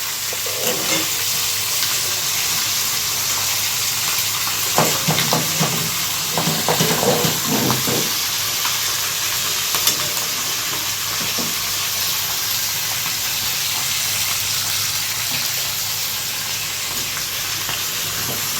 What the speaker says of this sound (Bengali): মাছ ভাজা ভালো হলো না।